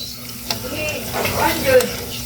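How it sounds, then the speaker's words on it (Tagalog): Fish sizzling and frying in a pan at close range, a steady crackling hiss with faint stirring clinks and some background voices. "fish fry"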